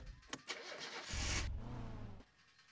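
A car engine in the driving game My Summer Car cranks and catches after stalling, a short mid-pitched starter whir rising into a rough idle, heard alone and close.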